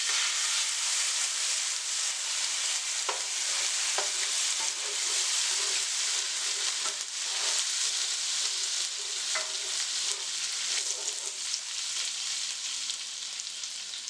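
A honey Cajun garlic sauce with melted unsalted butter, soy sauce and Cajun seasoning is stirred in a pan, giving a steady soft sizzle with faint scraping strokes throughout, close and even, with no talking.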